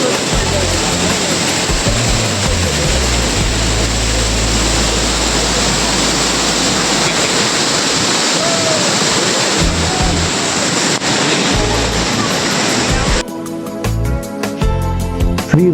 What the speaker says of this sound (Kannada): ಇದು ಇರ್ಪು ಫಾಲ್ಸ್ ಜಲಪಾತ